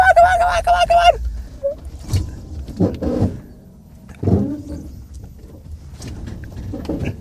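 A Chinese-made imitation Dodge RAM or Land Rover Defender pulls away and accelerates with uneven engine bursts and surges. Excited voices shout over it at close range.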